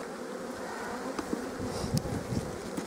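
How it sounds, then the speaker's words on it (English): Honeybees swarm around a hive frame during beekeeping, making a steady, dense buzzing hum close by with no talking. "make sure there's no bees on that corner"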